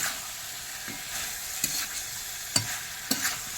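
Chicken stirred with red chilli powder in a frying pan, a quiet hiss with a few sharp scrapes and clinks of the spoon against the pan at irregular intervals, no talking.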